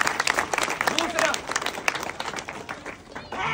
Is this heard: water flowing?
no